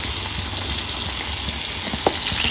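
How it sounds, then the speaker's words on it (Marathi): Mushroom pakoras sizzle in hot oil in a home kitchen, with a steady, close, hissing fry and a brief clink near the end. "तर बघा आता मशरूम आपण फ्राय करत ठेवलेले आहेत पकोडे"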